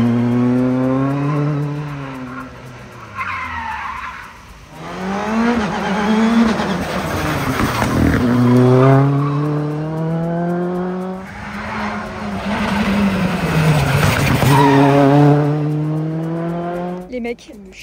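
A rally car runs a roughly 3 km course, with its engine revving up and down loudly through repeated gear changes and tires scrubbing and skidding as it passes. Voices speak intermittently over the noise.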